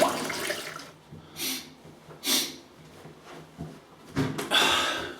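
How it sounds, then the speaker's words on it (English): Water runs in short bursts from a bathroom tap as a face is rinsed after a shave with a Gillette Tech safety razor, with splashing, pauses and snorting breaths between rinses, close and moderately loud. "I'll just rinse off"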